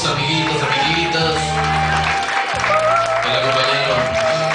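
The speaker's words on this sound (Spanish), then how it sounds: "Ahí está el aplauso fuerte de todos sus amiguitos, amiguitas." Friends at a quinceañera party clap and cheer loudly with scattered whoops, the applause mixed with music playing in the hall.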